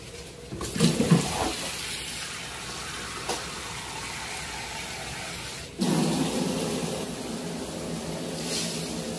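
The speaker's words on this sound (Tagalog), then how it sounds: "At lalagyan ng tubig." Water poured into a pan of fish adobo (galunggong with soy sauce and vinegar), a short splashing burst near the start, then a steadier rushing pour later on, close by with no talking.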